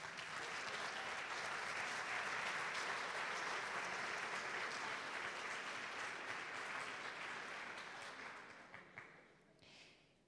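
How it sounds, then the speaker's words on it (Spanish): A large conference audience at an international congress applauds to welcome the speakers, a dense, steady wash of clapping that holds for several seconds and then thins out and fades near the end. "Los recibimos con un fuerte aplauso."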